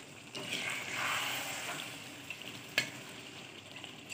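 Chicken for chicken rendang frying in a pan gives a soft, steady sizzle and hiss, with a brief clink of stirring partway through.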